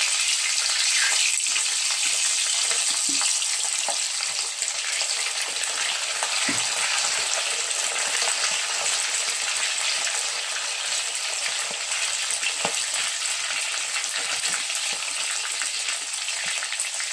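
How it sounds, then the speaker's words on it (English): Meat frying in hot vegetable oil for Nigerian party jollof rice, a constant bright crackling sizzle with faint pops and stirring, steady and close. "Once it's hot, I'm going to fry the meat."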